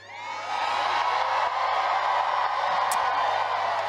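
A crowd at a campaign speech cheering and whooping, a dense, loud sustained roar of many voices that swells in quickly and holds steady.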